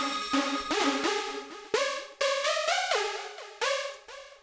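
A punchy Sylenth synth lead, the Drop preset from the Total EDM sample pack, plays a bright melodic phrase of separate plucked notes with quick pitch slides, loud and alone.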